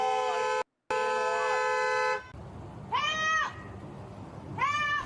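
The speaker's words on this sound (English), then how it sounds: "I'm allowed to honk my horn all I want." A car horn blares in a long, steady honk broken by a brief gap, followed by two shorter wavering tonal blasts, loud and close in a street setting.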